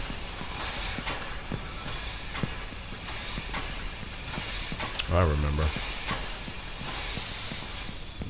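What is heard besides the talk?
train rolling and hissing in a video game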